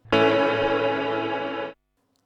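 A reverb pedal with tails switched off holds a dense effected tone steadily, then cuts to silence abruptly rather than fading, leaving only a faint trace afterward.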